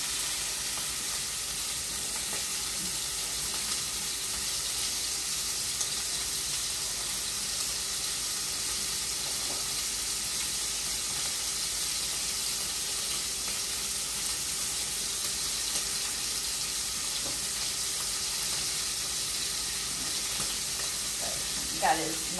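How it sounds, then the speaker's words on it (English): Bacon sizzles and fries in a pot while being stirred, a steady soft hiss of hot fat with occasional faint scraping, continuous and fairly quiet, with no talking. "what I'm going to do is I'm going to kind of mix the bacon up and let that cook"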